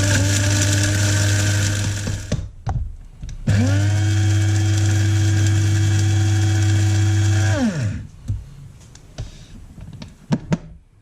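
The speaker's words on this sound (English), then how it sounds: "I've just got half my whole spice mix I'm going to put in my grinder to start with" Electric spice grinder whirring loudly as it grinds a whole spice mix for Goan pork vindaloo, two sustained bursts with a short pause between, then quiet rattling and clicks as it stops.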